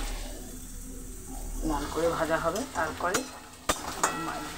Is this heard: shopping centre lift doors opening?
no